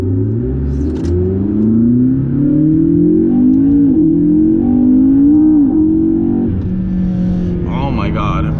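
A supercar engine accelerates at half throttle onto a freeway on-ramp, a loud rising drone that climbs steadily in pitch with a brief dip, close and dominant throughout.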